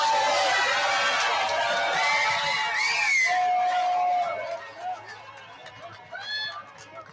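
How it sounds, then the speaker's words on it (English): A loud, dense crowd gathers around a presidential media appearance in New York City, with shouting, cheering and overlapping chatter throughout and a few distinct voices calling out above the din. "Obviously, a very loud crowd here with a lot of people across"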